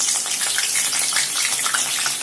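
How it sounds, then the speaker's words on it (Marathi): Finely chopped green chillies sizzle in hot oil for sabudana chivda, a close, continuous hissing crackle with dense popping spatter and no voices. "आता आपण तळून घेतोय बारीक चिरलेल्या मिरच्या"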